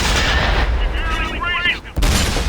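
Tank cannon fire from the video game World of Tanks, with a loud, dense gunshot blast that rolls on, then a second sharp report near the end, heavy and close.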